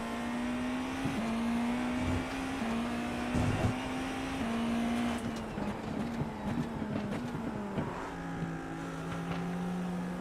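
A Porsche GT3 race car engine in iRacing holds a steady droning tone, dipping briefly at gear changes and dropping lower toward the end, with no talk over it.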